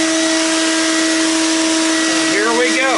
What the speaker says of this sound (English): vacuum sweeper on.